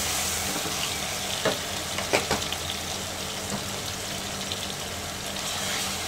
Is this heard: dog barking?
no